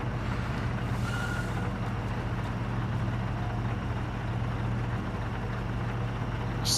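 Continuous low engine drone of a heavy truck in the video game Construction Simulator, steady and unbroken throughout, with a faint higher tone briefly appearing.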